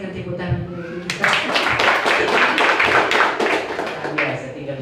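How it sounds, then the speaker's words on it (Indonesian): A church congregation claps together during a service, dense hand clapping bursting in after about a second and holding steady and loud to the end, with voices mixed in. "Kita berikan tepuk tangan untuk kita."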